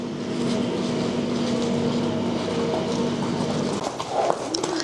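Hooves clip-clop in a steady rhythm over a constant background rumble, fading slightly near the end.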